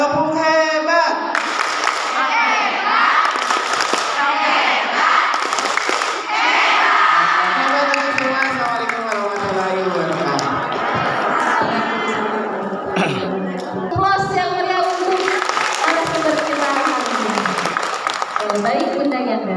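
An audience of teachers at an early childhood education session in Garut performs a rhythmic clapping cheer, loud and close, with shouts, whoops and voices chanting over the claps throughout.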